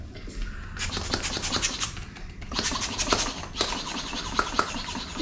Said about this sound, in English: how to make a balloon dog with just a balloon and a pump